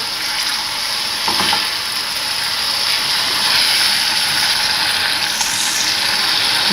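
Grated apples being stirred into caramel in a hot pan, giving a steady loud hiss and sizzle with occasional scraping strokes from the stirring, and no voices.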